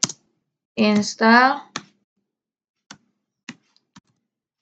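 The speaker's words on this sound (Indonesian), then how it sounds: "Kita ketik apt strip get" A few isolated, light keystrokes on a computer keyboard while a command is typed into a Debian terminal, spaced out and faint after a short burst of a man's speech.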